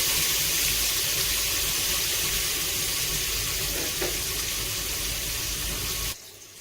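Onion and tomato fry in a pan with spinach, giving a steady, loud, close hiss and crackle that runs unbroken and then cuts off sharply near the end.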